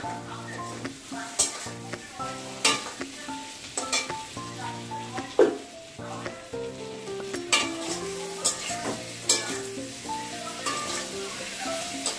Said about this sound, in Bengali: ভাজা কষানোর উপর আলু দিয়ে দিচ্ছি।